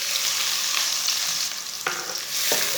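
Finely chopped onions frying in two spoons of oil, a strong close sizzle with a spoon scraping and stirring through them at intervals, no voices.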